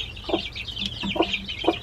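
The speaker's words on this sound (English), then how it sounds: "That's a bronze crested Polish." A bronze crested Polish chicken, a hen with a black head and bronze-colored feathers, clucks in three short, evenly spaced bursts, close by, over a steady layer of other birds chirping in the background.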